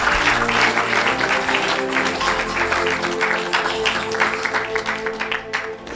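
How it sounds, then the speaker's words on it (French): Congregation clapping during a church service, a steady dense roar of many hands that continues for the whole stretch, mixed with sustained musical tones underneath. "Somebody clap for the Lord."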